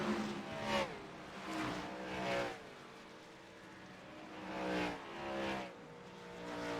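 Simulated NASCAR race cars in iRacing at Auto Club Speedway, one car spinning across the grass, with engine drones swelling and fading in repeated passes, a loud dense roar that rises and falls several times.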